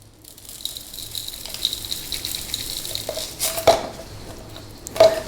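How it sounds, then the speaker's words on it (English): Calcium chloride pellets pour and clatter into a small glass vial in a few quick bursts, with lighter rattling grains between them, close and moderately loud, with no voices. "we want to add enough calcium chloride to this vial"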